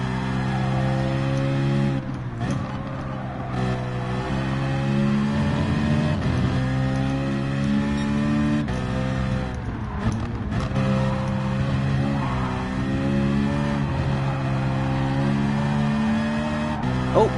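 High-pitched race car engine from Gran Turismo Sport screams steadily throughout, with shifts and brief dips as revs fall and rise again, sounding somewhat like a Formula 1 car.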